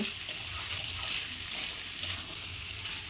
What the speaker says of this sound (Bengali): সেই মটরগুলো আমি এর মধ্যে দিয়ে বেশ কিছুক্ষণ কষিয়ে নেব